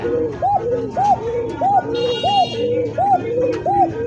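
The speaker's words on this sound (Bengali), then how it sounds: "মোটা গলা খালি ডাকবো গর গর গর গর করে" Pigeons at a bird market coo repeatedly in a steady rhythm, about every half second, close and clear, with a brief buzzing tone and a busy background murmur of market noise.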